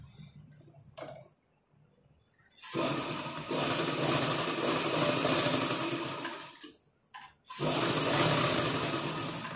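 A sewing machine stitches a blouse neckline, running in long steady bursts of rapid mechanical whirring and rattling, stopping briefly between runs, close and fairly loud.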